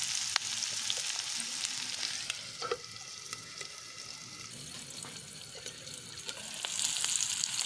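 Onions fry in a pan for a cashew curry, browning to light pink. A soft, continuous sizzle runs under scattered light stirring clicks, moderately close and fairly quiet, with no speech.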